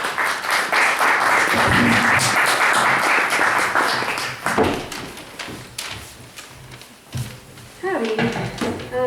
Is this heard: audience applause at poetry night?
yes